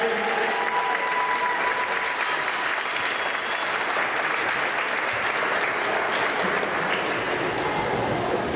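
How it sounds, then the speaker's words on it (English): A large crowd at a hockey tournament rink in Blaine applauds loudly and continuously, a dense wash of clapping that holds steady throughout, with a faint voice briefly audible at the start. "How about a big round of applause for both these teams"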